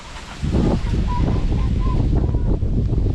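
A few short honking duck quacks sound at a distance, partly buried under heavy, steady wind buffeting the microphone.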